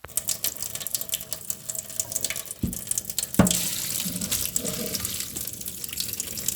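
Tap water runs steadily into a kitchen sink while cooked ramen noodles are drained. A sharp clatter of a pot or strainer comes partway through, and the flow continues close and loud to the end.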